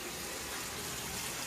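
Hot water streams from a tap in a constant, smooth rush, close and unbroken throughout, with nobody talking.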